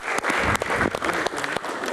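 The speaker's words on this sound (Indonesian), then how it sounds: "Tepuk tangan untuk Habib Jafar." Studio audience applauding for Habib Ja'far at a live Q&A panel show, a steady dense clapping that fills the whole stretch at close range with no talk over it.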